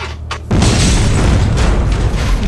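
A car bomb in Hitman: Codename 47 goes off with a sudden loud boom half a second in, followed by a sustained roaring rumble of the blast that fills the rest.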